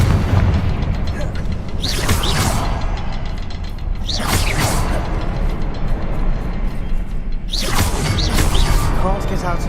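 Confringo spell blasts fire in Hogwarts Legacy, three whooshing fiery bursts spaced a few seconds apart over continuous combat noise, with a voice speaking.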